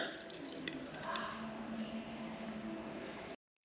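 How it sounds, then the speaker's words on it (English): Water poured down a slow-draining urinal to flush away broken-off sludge and scale, a soft wet trickling and dripping that runs steadily and close by, then cuts off abruptly near the end. "we're going to put some water down there and try and wash away all that sludgy, scaly stuff that we've just broken off"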